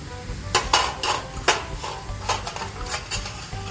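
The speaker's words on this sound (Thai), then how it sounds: "กรอบมากๆนะคะ ลองฟังเสียงดู" Crispy fried red sausages are stirred in a pan, with light scraping and clattering against the metal and a faint sizzle underneath. No voices.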